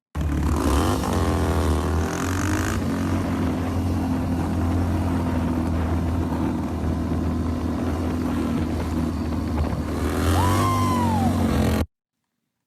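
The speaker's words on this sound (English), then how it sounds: "This is on a road glide, no handbrake, stand-up, so all throttle control." A Harley-Davidson Road Glide motorcycle roars steadily during a stand-up stunt controlled only by throttle, with a loud, continuous engine drone that swells in places and ends abruptly.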